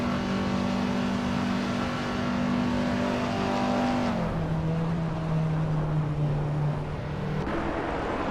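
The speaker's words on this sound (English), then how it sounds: "Hope you're ready for some exciting car races today." Racing cars in a car racing video game accelerating, a loud steady engine whine that climbs and then drops as gears shift, holding close and constant with no talk.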